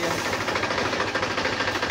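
A tractor engine runs close by with a rough, rapid knocking chug, loud and continuous, with a faint voice in the background.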